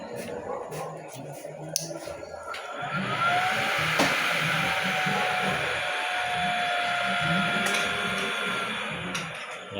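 Electric blower whirring steadily on a 6-inch stainless sliding-chamber stove, a continuous airy hum that strengthens and stays loud after a few seconds, with clicks and handling knocks near the start.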